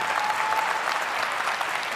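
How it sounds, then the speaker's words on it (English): Audience at a science lecture on morality breaks into steady applause, an even wash of clapping that fills the whole moment. "I got applause."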